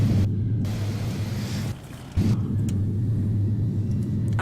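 Embraer E-Jet reverse thrust on landing in a flight simulator game, a steady loud engine roar and rumble with a brief dip and surge partway through, no talking.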